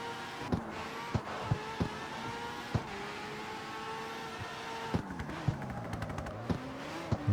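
Mazda RX-7 drifting through traffic in CarX Street, its engine droning steadily with shifting pitch and revs, punctuated by sharp repeated clicks and brief bursts as the car slides around other vehicles.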